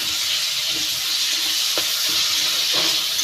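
Chopped tomatoes with salt frying in a pan, a steady bright hissing sizzle with a few soft stirring taps, close and continuous.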